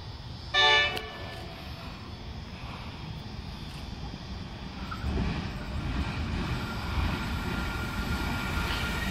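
A freight train led by NR-class locomotives rumbles past a station platform at Mindaribba with a low, steady roar, opening with a brief loud horn toot, the rolling noise building slightly toward the end.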